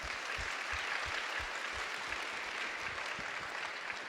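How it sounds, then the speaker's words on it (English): Audience applause at a hackathon closing ceremony, honoring the judges: steady, dense clapping from a large crowd filling the whole stretch at even volume, with no voices over it. "Let's have a round of applause for them."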